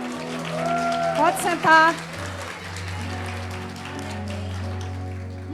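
A church congregation at a Sunday evening service applauds in a soft, rain-like patter of clapping beneath a sustained organ or keyboard chord, with a voice speaking briefly near the start.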